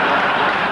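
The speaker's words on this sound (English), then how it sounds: "please, a big, big send-off for David and the old woman. Cheer them on the way." A studio audience gives a send-off with a short, dense wash of steady applause and cheering, loud and unbroken throughout.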